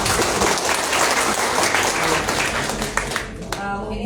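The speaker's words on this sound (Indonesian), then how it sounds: "Tepuk tangan untuk kalian semua." Seminar audience in a hall applauding, dense loud clapping from a sizable crowd that carries on and then thins out near the end.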